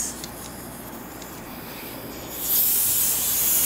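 R134A refrigerant gas hissing from the valve of a can during a refrigerator recharge, a steady broadband hiss that swells louder and brighter about two-thirds of the way through, with no talk.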